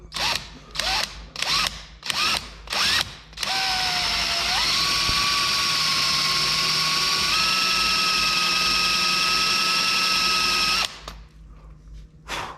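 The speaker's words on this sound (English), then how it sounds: "You're drilling into brass" A power drill whirs in several short bursts, then runs continuously at high speed, its pitch shifting slightly as it bores into brass before stopping.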